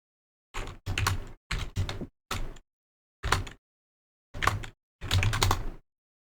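Computer keyboard keys tapped while entering a password, short bursts of clicky typing in several separate groups with quiet gaps between, close and clear with no talking.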